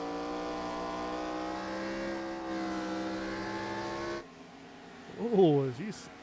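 A race car engine pushed hard on track gives a loud, sustained harmonic drone that holds steady for several seconds, then drops away abruptly; a voice rises briefly near the end.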